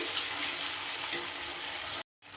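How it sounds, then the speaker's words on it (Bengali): Spice paste frying in a pan for a vegetarian dish, a loud continuous close sizzle that cuts off abruptly for a moment near the end before resuming. "যে মশলার পেস্টটা তৈরি করলাম সেইটা দিয়ে দিলাম। মশলা খুব সুন্দর করে কষিয়ে নিতে হবে।"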